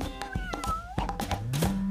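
A cartoon cat meows in a short, lilting call with rising and falling pitch, set over bright music with several percussive thumps.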